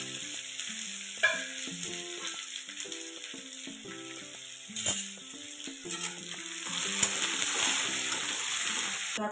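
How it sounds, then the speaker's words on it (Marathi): Two medium onions, finely chopped, fry in a pan with a steady close sizzle and occasional scraping stirs, with light clinks and bumps of the utensil, while a melodic tune plays faintly in the background. "छान कांदा आपण फ्राय होऊ देऊ।"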